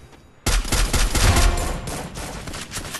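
A shooting video game lets off a sudden close burst of rapid gunfire that starts abruptly and rattles on loud and dense, then tails off slightly toward the end.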